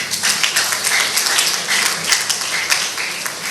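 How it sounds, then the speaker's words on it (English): An audience claps during formal acknowledgements at a broadcast ceremony, a broad, continuous roll of applause from many people, loud and even across the whole stretch with no speech breaking through. "Clap now."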